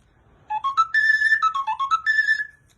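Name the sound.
larger fiscaletto whistle in A, lower tone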